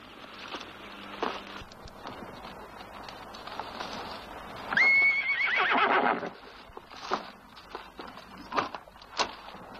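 A horse whinnies loudly in a single drawn-out call midway through, amid scattered thumps and rustling outdoor noise.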